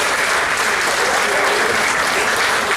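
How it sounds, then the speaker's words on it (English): Audience applause fills a sports banquet hall honoring student athletes, a steady dense clapping that runs loud and unbroken throughout with no talk over it. "Let's put our hands together, a little energy in the room."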